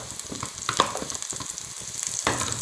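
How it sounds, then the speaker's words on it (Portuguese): Onion sizzles and crackles in a pan of freshly fried calabresa sausage for feijão tropeiro. The frying is steady and close, broken by stirring scrapes, and nobody speaks. "Vamos dar uma leve dourada na cebola, tá?"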